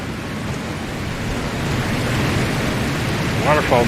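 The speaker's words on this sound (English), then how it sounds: "Waterfall's loud." Loud, steady roar of a waterfall in Dragon Age Inquisition, a broad wash of rushing water that builds slightly and holds throughout, with a brief voice near the end.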